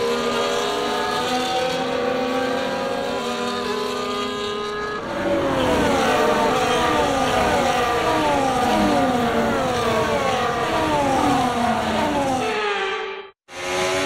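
Formula 1 cars on a formation lap at the Netherlands circuit in F1 24 drone along with high engine whines, several overlapping engine notes rising and falling as the cars pass close by, loud and continuous until a brief cut near the end.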